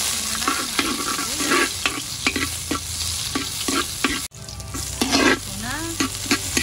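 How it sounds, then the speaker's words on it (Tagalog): Onion, garlic and ginger sauté in hot oil in a pan, sizzling steadily and loudly while a utensil scrapes and stirs in regular close strokes. "igigisa muna natin yung ating sibuyas, bawang at ang ating luya"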